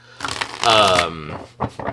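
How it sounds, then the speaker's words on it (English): A Queer Crow Death Magic Tarot deck is shuffled by hand while a person talks over it, the brief riffling card clicks surfacing near the end between stretches of speech. "I'm shuffling this deck"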